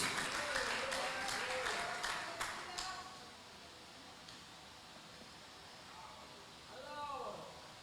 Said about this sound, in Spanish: Templo Cristiano le da una ofrenda de palmas a Dios